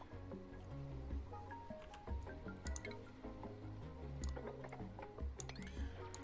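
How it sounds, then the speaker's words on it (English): Water from a waterfall in the video game Oxygen Not Included splashes and drips in quick, irregular spatters over a low, steady tonal background, close and fairly even in level. "I think Zoolander's just standing under this waterfall"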